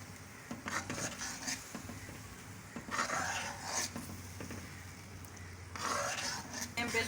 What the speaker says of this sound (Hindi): चमचा हमने कंटिन्यू इसमें चलाते रहना है